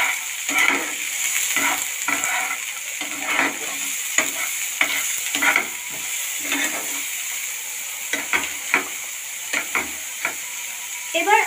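Carrots and peas frying in a pan with a steady sizzle, broken by repeated scraping strokes of stirring at an uneven rhythm, close and fairly loud throughout.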